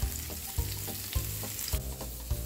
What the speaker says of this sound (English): right now I am frying some bacon to put in there